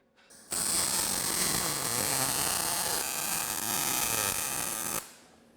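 A welding gun lays a bead across a steel joint in small repeated E-shaped motions, giving a steady, loud crackling buzz that starts abruptly, holds for about four and a half seconds, and cuts off cleanly.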